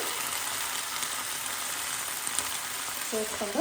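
Onions fry in a pan of fish gravy, a close, steady sizzle and crackle throughout, with a brief voice near the end.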